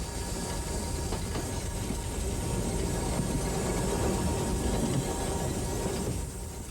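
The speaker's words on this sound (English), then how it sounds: "We now take a ride on the return trip to Oschatz and savour once more the atmosphere of narrow-gauge steam in the DDR." Narrow-gauge steam train on the line to Oschatz in East Germany, heard as a steady, fairly loud rolling rumble with hiss and rattling carriage noise throughout, no voices.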